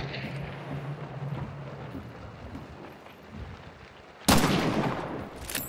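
Gunfire rings out in a bounty hunt video game, a loud sudden burst arriving near the end over a steady rumbling background of game ambience.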